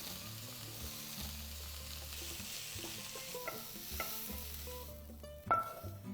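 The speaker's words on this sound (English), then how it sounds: "I'm just going to add the greens now and just cook them until they wilt down a bit" Swiss chard greens cooking and wilting in a Circulon skillet, heard as a quiet sizzle with stirring and scraping, some clinks, and a sharper clatter near the end, with no talking.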